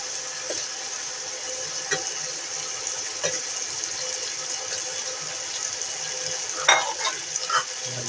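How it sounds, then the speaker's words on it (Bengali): Hilsa fish frying and being stirred into spiced masala in a pan, a steady close sizzle with scattered scraping stir sounds and soft bubbling throughout. "মাছটা দিয়ে ভালো করে একটু কষায় নেব।"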